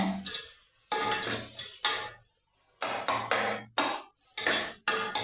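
Onions and tomatoes with chili, turmeric and coriander powders are sautéed in a pan, the spoon scraping and knocking the metal in repeated loud strokes with short pauses between them.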